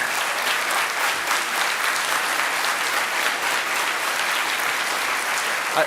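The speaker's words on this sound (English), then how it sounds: "big round of applause for the LF event team" A crowd at a closing event gives a big round of applause for the event team, with even, continuous clapping at a steady moderate loudness throughout.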